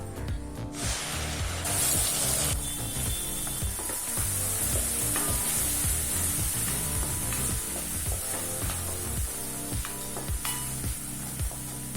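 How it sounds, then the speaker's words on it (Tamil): Ground onion paste sizzles and fries in hot oil in a kadai for chana masala, a steady loud crackle with repeated stirring scrapes and clinks throughout, no voices. "வெங்காயத்தை நல்ல பச்சை வாசனை போக வதக்கிக்கலாம்"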